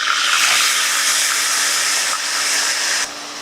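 Ginger paste, radhuni paste and a splash of water hitting hot tempering spices in a pan, giving a loud, steady steamy hiss and sizzle that holds for about three seconds before easing slightly.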